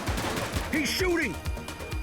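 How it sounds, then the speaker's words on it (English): Gunfire in the video game The Precinct comes as a quick series of evenly spaced, punchy shots, close and loud, while a voice speaks briefly over them. "He's shooting!"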